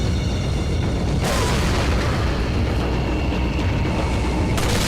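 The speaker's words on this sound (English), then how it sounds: "I shot him in the dynamite stick, and that's why he blew himself up." Dynamite stick carried by an enemy exploding in Resident Evil 4 HD, set in the village: a loud, sustained booming roar of blast noise with a sharp surge partway through and a renewed burst near the end.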